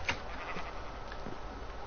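A Minecraft sheep gives a short, clear bleat near the start, followed by quieter background game ambience.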